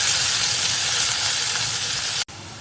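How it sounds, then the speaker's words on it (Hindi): Coarsely ground ginger-garlic paste fries in hot ghee with a loud, dense, close-up sizzle that runs steadily and then cuts off abruptly near the end. "अभी इनको अच्छी तरीके से पहले भून लेते हैं"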